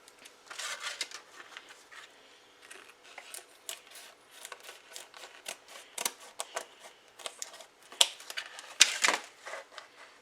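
A plastic package of diced ham is cut open, giving close crinkling, rustling and sharp snips in irregular bursts, with a few louder crackles toward the end and no speech.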